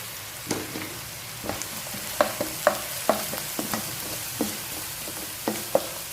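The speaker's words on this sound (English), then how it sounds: "finely chopped garlic, green chilies, and allowing it to well fry for a few seconds." Chopped garlic and green chilies sizzle steadily in a hot wok, a continuous fizzing bed broken by sharp clicks and scrapes of stirring at irregular intervals, close and moderately loud with no talking.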